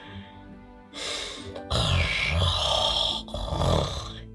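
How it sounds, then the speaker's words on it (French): A voice performs a character's loud, rumbling snores while telling a French children's tale, with long, rasping inhalations and snorting grunts in slow succession. "Il ronfle comme un tonnerre, rêvant d'un trésor."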